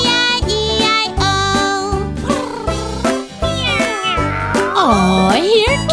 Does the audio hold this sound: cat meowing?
yes